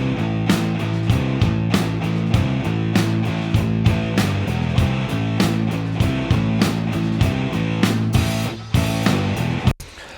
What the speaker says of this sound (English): So our drums, bass, and rhythm guitars on this track sound like this.